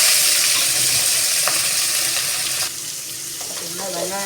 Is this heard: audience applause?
no